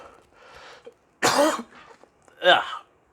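A couple of harsh, close coughs separated by a pause, with some quiet speech-like sounds before them.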